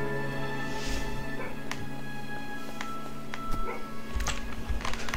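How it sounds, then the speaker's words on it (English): A dog in the video game Starbound gives a few short, scattered yips and barks over a steady droning game soundtrack. "what are you barking about?"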